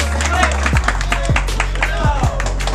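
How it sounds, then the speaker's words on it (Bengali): An audience at a YouTube family meetup applauds for Shafiqul Islam Rakib, a steady wash of many hands clapping mixed with crowd murmur and voices, with heavy low rumble throughout. "সবাই একটু ভাইয়ের জন্য একটা হাততালি হোক"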